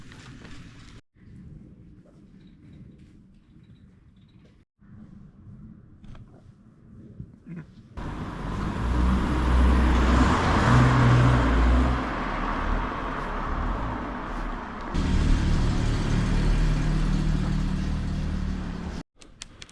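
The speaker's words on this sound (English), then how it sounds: "Some serious traffic jams in Western Kyoto." Road traffic in western Kyoto, where passing cars build from faint distant hum into a loud, sustained wash of engine and tyre noise close by, with a brief dip before it swells again.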